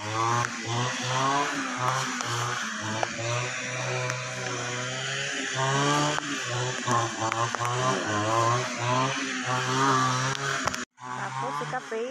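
Grass cutter engine running outdoors in a farm garden, a steady buzzing two-stroke drone that rises and dips as it works, with people talking over it before a brief cut near the end.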